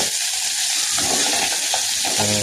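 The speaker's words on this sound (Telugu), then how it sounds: "పొట్టి చేపలు మంచిగా కలుపుకోవాలి" Small fish stirred in a frying pan for a Telugu fish curry, giving a steady loud sizzle with soft scraping strokes of the spoon running throughout.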